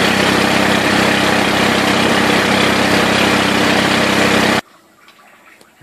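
A 48 volt Turgo hydro generator runs with a loud, steady whine and rushing water for several seconds, then cuts off abruptly into near-silence with faint small knocks.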